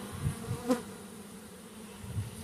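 Honeybees drone steadily around a swarmy hive during comb work, a close, continuous low hum with a few slightly louder swells as individual bees pass near.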